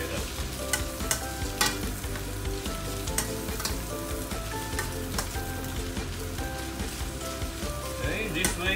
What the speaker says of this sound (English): Stir the egg and push the noodle over. Then give it a few stir. Stir everything together.